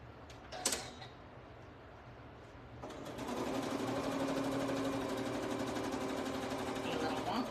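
A sewing machine stitches fabric all the way around a piece in a sewing studio, starting after a brief creak and then running as a steady, close mechanical whir for several seconds.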